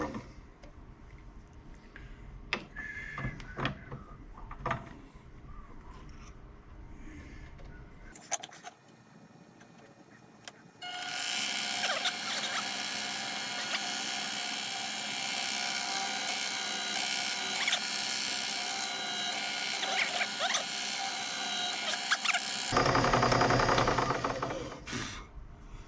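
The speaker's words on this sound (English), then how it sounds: "let's chamfer them." Grinder chamfering metal parts of a pie press, preceded by scattered clanks and handling knocks, then a loud continuous high-pitched grinding whine for about twelve seconds that shifts pitch near the end before cutting off.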